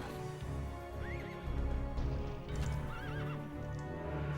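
Horses in the Battle Realms strategy game neigh twice in shrill whinnies over a low rumble of hooves and battle ambience, with no talk.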